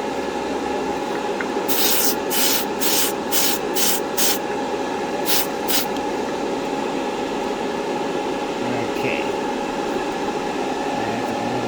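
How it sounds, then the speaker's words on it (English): A series of short, sharp spray-paint bursts hiss in quick succession onto the hood of a 1968 Corvair model car, then two more after a pause, over a steady background hum. "Let's give that one more little spray."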